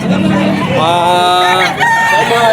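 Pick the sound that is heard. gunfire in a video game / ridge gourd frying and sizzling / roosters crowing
roosters crowing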